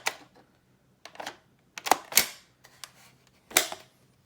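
A custom airsoft gas blowback MA37 pistol cycles its slide with a handful of sharp, close mechanical clacks and snaps, irregularly spaced with quiet gaps between them.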